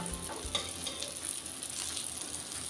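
Soft, steady sizzling of slices frying on a hot griddle, a faint continuous crackle with a few light pops.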